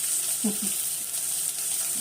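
Sliced brinjal tempered in hot oil in a home kitchen for a stuffed brinjal curry, giving a close, steady crackling sizzle that holds for about two seconds with no talk.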